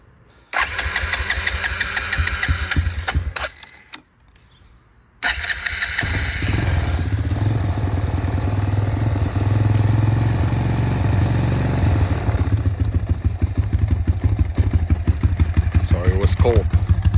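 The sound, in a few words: Suzuki Quadsport LTZ-250 ATV engine starting and running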